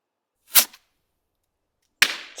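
Two sharp, separate Bonfire Night firework bangs, each a loud crack with a brief fading tail, split by about a second and a half of silence.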